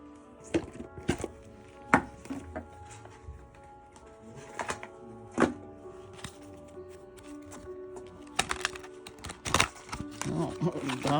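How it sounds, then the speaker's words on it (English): A deck of tarot cards shuffled by hand at close range, giving bursts of crisp riffling and soft slaps over a steady background hum and murmur, with louder flurries near the end. "Oh, that was a great shuffle."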